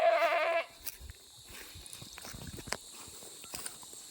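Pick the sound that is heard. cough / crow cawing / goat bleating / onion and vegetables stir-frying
goat bleating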